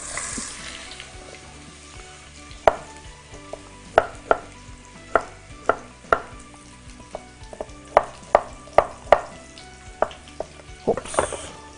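Potatoes go into a hot pan and sizzle, while a utensil clatters repeatedly in quick clusters of sharp knocks over the low frying hiss.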